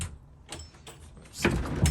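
A shed door is unlocked and pulled open, giving a few faint rattles and clicks followed by a louder scraping swing near the end.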